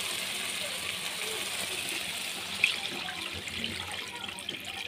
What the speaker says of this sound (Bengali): এটা তো আমি এখন দিয়ে দিচ্ছি জল